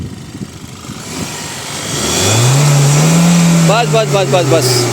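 A Hyundai Alcazar 1.5 turbo petrol engine, with the AC switched off, revs up into a rising drone that builds and holds for a few seconds while someone speaks over it.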